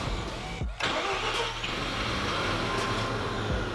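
A Mazda RX-7 FC engine starts with a brief catch, then settles into a steady idle rumble that runs on continuously.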